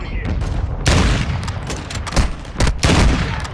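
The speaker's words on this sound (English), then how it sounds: "Someone's shooting behind me" Loud gunfire in the battle royale shooter Warzone 2.0 crackles in repeated bursts and single sharp shots, some close and booming, others slightly distant, in a busy fight.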